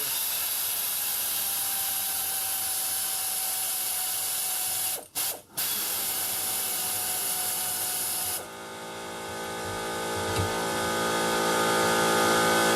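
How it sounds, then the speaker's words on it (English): Air impact gun zipping transmission bolts out of a 2012 Prius V during a 2016 Prius engine swap: a steady pneumatic whir with two brief dropouts, then a shift to a sustained hissing run, loud and close, with no talking. "we're going to zip all these trans bolts out of here"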